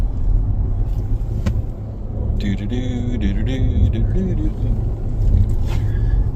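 Car interior engine and road rumble during a drive home, a steady low drone throughout with a brief rattle or clatter in the middle and another near the end.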